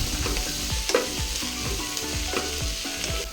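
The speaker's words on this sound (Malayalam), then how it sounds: "അതും കൂടി ചേർത്ത് കൊടുത്ത് നന്നായിട്ടൊന്ന് വഴറ്റിയെടുക്കാം" Three kinds of capsicum sautéing in a pan for chicken varattiyathu, a steady close sizzle broken by regular scraping strokes of a spoon stirring through the peppers.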